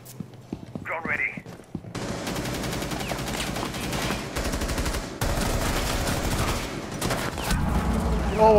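Gunfire in the tactical shooter game Rainbow Six Siege, rapid automatic bursts and loud shots rattling almost continuously after a quieter start, with players talking over the action.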